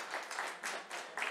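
Audience applause for a conference panel discussing inclusion and innovation, a steady wash of many hands clapping that comes across fairly faint and distant, with no talk over it.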